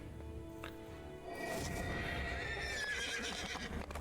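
A horse whinnies loudly over a steady game backdrop, its rising, wavering call filling the second half of the clip.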